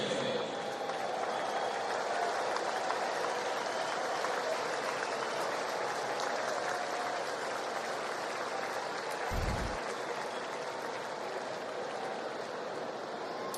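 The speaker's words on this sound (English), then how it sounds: "Nice round of applause for Tommy." A baseball crowd at a Padres vs Cardinals game keeps up a broad, steady wash of distant applause for Tommy Pham as he comes up to bat. It holds an even level throughout, with no clear talking heard over it.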